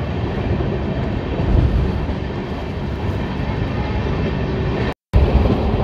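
The Lalkuan–Howrah train runs along the line with a continuous loud rumble and clatter of wheels on track, heard from on board, with one brief dropout near the end.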